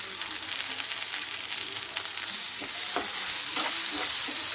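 A spiced egg mixture fries in a pan with a close, continuous sizzle, while repeated scraping strokes of a spatula stir through it in an uneven rhythm.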